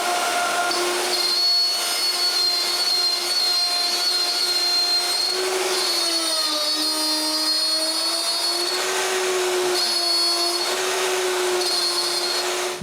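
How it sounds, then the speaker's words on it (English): A router fitted with a 7mm bit runs along a guide rail, cutting grooves for a closed bookcase: a loud, steady high-pitched whine that holds for the whole stretch, its pitch dipping slightly as the bit bites into the wood, with no talk. "For this, I use a 7mm bit and the router is guided by a rail."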